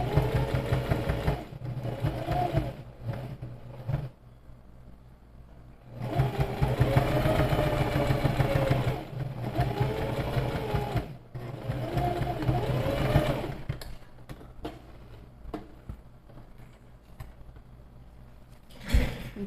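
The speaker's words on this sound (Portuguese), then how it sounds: "E dou início na minha costura fazendo ela bem devagar." Sewing machine stitching a zipper seam slowly, whirring in several bursts of a few seconds each separated by pauses, close and moderately loud with no talk.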